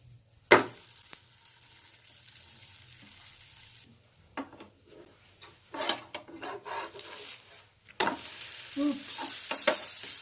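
Aloo paratha frying in ghee on a pan gives a steady, moderately loud sizzle with scraping and stirring sounds, growing busier and brighter toward the end, with no talking.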